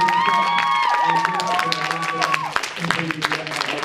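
An audience gives a round of applause, with a swell of clapping and cheering under ringing tones and voices, the claps growing more scattered toward the end.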